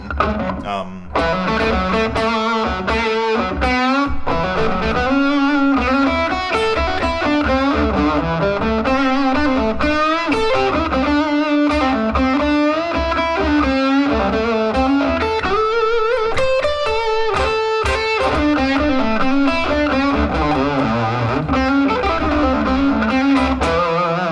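Distorted electric guitar plays a bluesy lead in A with bent notes and quick phrases, steady and loud throughout.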